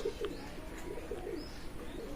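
Pakistani Teddy pigeons coo in low, soft, repeated throaty calls, with a steady murmur of cooing running through the short stretch.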